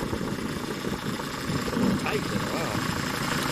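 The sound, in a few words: engine idling with power steering pump whine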